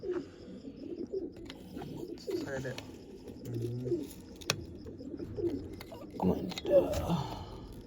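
Pigeons in a coop murmur with repeated low, rolling coos over a busy background of rustling, clicks and occasional chirps, while people talk intermittently nearby.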